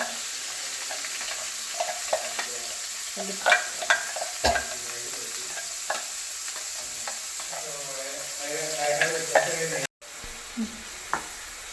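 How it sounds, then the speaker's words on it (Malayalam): Chicken sausage curry stirred in a pan of hot coconut oil, a steady sizzle with spoon scrapes and clacks against the pan throughout. "രണ്ട് മിനിറ്റ് നമുക്കൊന്ന് ഇളക്കിക്കൊണ്ടിരിക്കാം"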